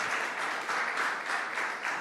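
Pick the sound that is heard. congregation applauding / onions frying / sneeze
congregation applauding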